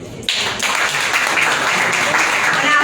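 An audience at a tribute ceremony for young role models bursts into loud, close applause that starts abruptly and holds dense and steady to the end.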